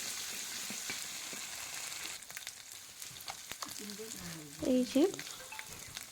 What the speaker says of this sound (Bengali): পেঁয়াজ কুচি দিয়ে এই যে একটু নেড়ে চেড়ে নিচ্ছি, হালকা ভেজে নিব।